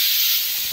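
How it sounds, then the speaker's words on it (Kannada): Heavy rain pours in Bengaluru, a steady, loud, dense hiss filling the brief moment with no talk. "ಹೆವಿ ಜೋರಾಗಿದೆ, ಸಿಕ್ಕಾಪಟ್ಟೆ ಮಳೆ ಬಂದ್ಬಿಟ್ಟಿದೆ"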